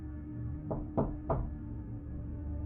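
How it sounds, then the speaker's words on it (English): Three loud knocks strike a front door in quick succession, sharp and close against a low steady hum. "The loud knocking at my front door made me jump"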